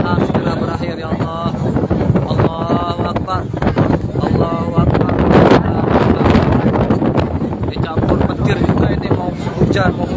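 Strong dusty wind and rain storm in Mecca roars continuously, buffeting the microphone with heavy, loud gusts while people talk over it.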